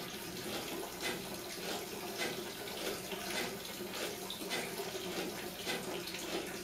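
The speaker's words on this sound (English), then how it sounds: "We can adjust the frequency of that so that we get a nice pendulum swing, good agitation down in the bath" In an electroplating bath used for copper and gold plating, an agitator swings a part back and forth, producing a steady wash of sloshing, bubbling liquid noise with soft rhythmic surges, moderately close and continuous.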